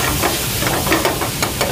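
Chopped garlic fries in a pan with a steady, loud sizzle and hiss, broken by a few stirring scrapes, heard close up with no one talking.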